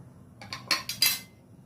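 A spoon stirs raw mango chutney with ginger, chilli and sugar in a pot, producing four or five quick scraping clinks in a short burst, fairly close.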